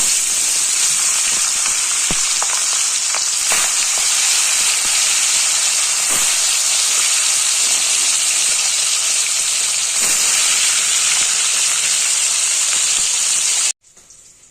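Turmeric-and-salt-coated katla fish pieces fry in hot oil, giving a loud, steady hiss with occasional pops and crackles, close by, then cutting off abruptly near the end.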